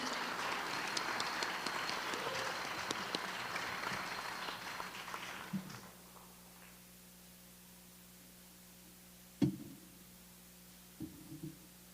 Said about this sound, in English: Let's give another round of applause for Colleen.